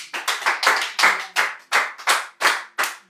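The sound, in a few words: audience clapping to acclaim the Lord at a church retreat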